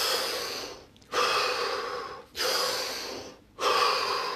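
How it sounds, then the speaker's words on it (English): Three deep breaths taken during a guided relaxation exercise, each a long, loud, close inhalation or exhalation separated by short pauses, with no speech over them. "So here we go, 3 deep breaths."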